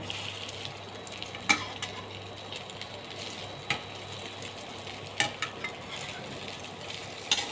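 Bread pakoras fry in hot white oil in a kadai as they are turned over, giving a soft, steady sizzle broken by scattered sharp clicks and taps of the spatula.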